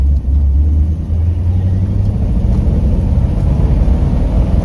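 Carbureted V8 of a 1955 Ford Fairlane running cold on a rebuilt Holley 4000 carburetor with no choke, holding a steady, slightly high idle as a deep continuous rumble, close and loud throughout.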